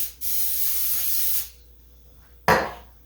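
Cooking spray hisses into a baking dish in a steady burst of over a second, followed after a pause by a brief, sharper second spritz, close by.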